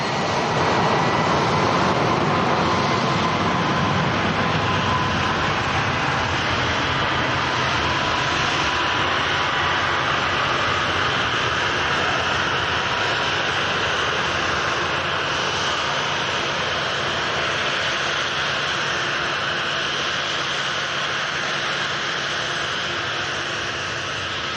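An airliner departing Manchester Airport, a loud sustained jet engine roar that stays strong and steady across the whole stretch, with rich low rumble and a faint whining tone riding on top.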